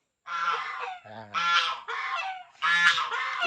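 Noisy geese honk in repeated loud, nasal bursts close by behind a rural house in Mambusao, Capiz, several overlapping calls in quick uneven succession.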